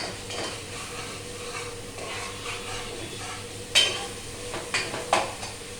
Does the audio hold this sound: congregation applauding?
no